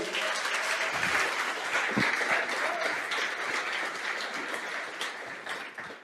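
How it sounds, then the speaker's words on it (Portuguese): Sustained applause from a church congregation, steady and dense for several seconds with no talking over it. "Você pode aplaudir o Senhor?"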